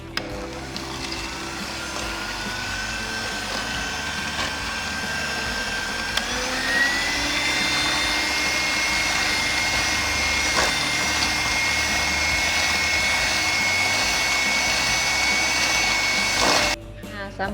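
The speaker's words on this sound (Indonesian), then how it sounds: "Dan kemudian ini kita kocok dengan menggunakan mixer sampai kental dan mengembang" An electric hand mixer beats chocolate batter for steamed polka-dot brownies until thick and fluffy, giving a loud, steady whir that rises slightly in pitch partway through and cuts off near the end.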